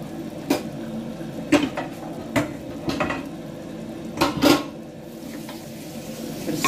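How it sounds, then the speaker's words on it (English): A spoon stirring vegetable soup in a cooking pot with lentils, making several distinct clinks and scrapes against the metal at irregular intervals over a soft bubbling background. "Bit of stir. Stir, stir, stir."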